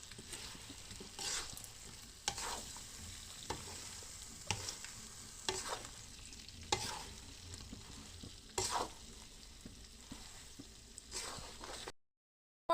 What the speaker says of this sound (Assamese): এতিয়া মই এইখিনি অলপ ভালদৰে লৰাই দিম।